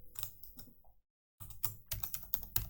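Keystrokes on a computer keyboard tap out a quick, uneven burst of clicks, close and clear, with a short silent pause before the typing resumes more densely.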